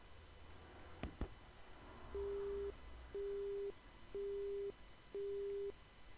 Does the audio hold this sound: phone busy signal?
yes